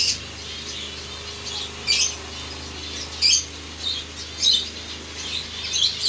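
Several pairs of finches in a breeding cage setup, including a white colony, chirp in short, bright bursts at irregular intervals over a steady low background hum, moderately close and fairly quiet.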